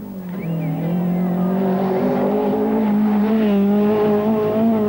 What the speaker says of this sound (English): the Peugeot picks its way delicately over the rocky track